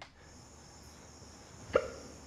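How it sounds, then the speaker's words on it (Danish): A single faint hiccup pops up near the end of a quiet stretch, with no one talking. "så begynder jeg at få hikke"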